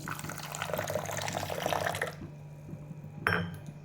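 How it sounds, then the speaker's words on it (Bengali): Water is poured onto Gobindobhog rice in a bowl to wash it. A steady, close splashing pour runs for about two seconds and stops, followed by a soft clink and faint drips. "চালটা ধুয়ে জল ছড়িয়ে রাখব জলটা দিয়ে দিলাম"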